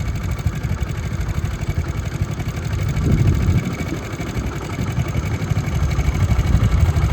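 A tractor engine chugs at a highway construction site, a steady low rumbling drone that grows a little louder midway as the machine draws nearer, continuous and fairly close.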